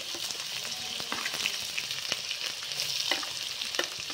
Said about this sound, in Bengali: আমি গাজর, ক্যাপসিকাম একসাথে দিয়ে দিলাম। খুব ভালোভাবে সেদ্ধ করে ভেজে নেব।